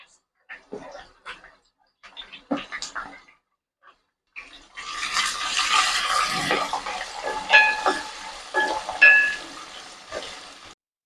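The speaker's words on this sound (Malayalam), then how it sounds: "അരിഞ്ഞു വെച്ചിരിക്കുന്ന സവോള ഇട്ട് കൊടുക്കുവാണേ." Chopped onion goes into hot oil with green chili and curry leaves for Kerala-style tomato rice, a few soft clinks giving way to a bright, steady sizzle that crackles and pops, with a voice speaking over it.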